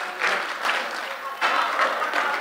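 Members of a political party congress audience clap in two short waves, fairly loud and dense, with a brief dip between them.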